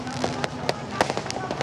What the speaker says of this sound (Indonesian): Warna-warni kembang api sudah memeriahkan dan menghiasi langit di sana.